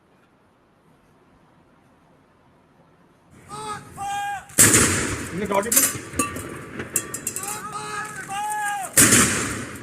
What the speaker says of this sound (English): this is called good gunshots because it is a 21 gun salute meant for special occasions and for dignitaries